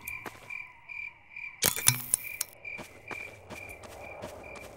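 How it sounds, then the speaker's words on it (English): Steady, rhythmic cricket chirping fills the background, joined by a few croaks and a sudden crackling burst midway. "I love the sounds of crickets."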